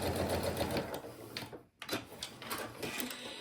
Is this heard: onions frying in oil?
no